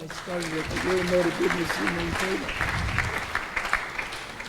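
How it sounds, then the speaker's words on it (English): Applause from a congregation at a Sunday love feast gathering, moderate clapping that runs throughout, with a voice talking over it early on. "Let's give them a round of applause."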